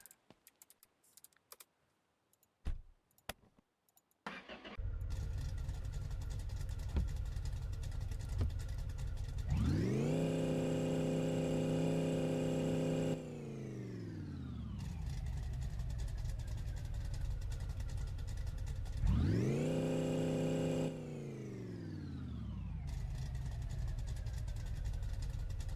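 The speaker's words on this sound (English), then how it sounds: "I think this motor is grenading itself because of no air cleaner." A big block V8 in a third-generation car runs with no air cleaner, idling roughly before it is revved twice in long sustained roaring pulls that fall back to idle, preceded by clicks and handling noises.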